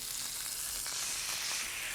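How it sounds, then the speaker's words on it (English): Catfish pieces shallow-fry in vegetable oil in a cast iron skillet, giving a steady, close hiss of sizzling with small crackles and pops. "And I'm shallow frying these in my cast iron skillet."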